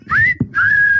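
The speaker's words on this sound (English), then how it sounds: "now, all together, let's whistle the song" A clear whistled melody, two sustained notes with a short break between them, close and fairly loud with no talking.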